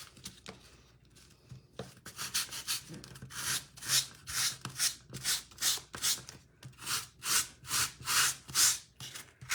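Paper rubbed over a card-making stamp makes soft scratchy strokes, starting irregular and quiet, then settling into a steady back-and-forth rhythm of about a dozen close, rasping swipes.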